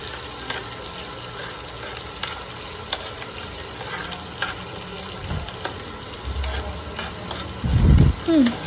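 Onions sizzle gently in a pan for a curd curry while being stirred, giving a soft, steady frying hiss with a few louder scraping clatters of the spoon toward the end.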